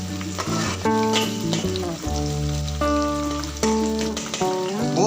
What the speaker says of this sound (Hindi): प्याज को लाइट ब्राउन करेंगे।